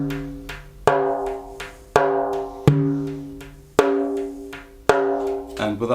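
A frame drum is struck in a steady pattern of sharp, ringing beats, each followed by quick fingertip taps that fill the gaps, played close and clear with no other sounds.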